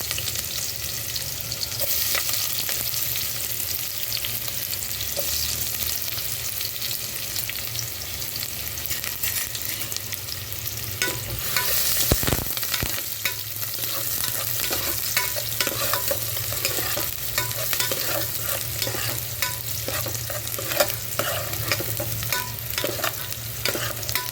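Onion frying in hot oil, a dense continuous sizzle and crackle that stays loud and even throughout, with occasional soft scraping from stirring and no talking.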